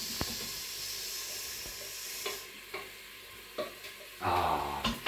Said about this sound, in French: Voilà, l'oignon, vous l'entendez, l'oignon qui chante.